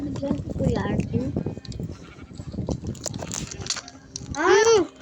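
An escaped goat bleats near the end, a clear wavering cry rising over busy outdoor background noise and murmuring voices.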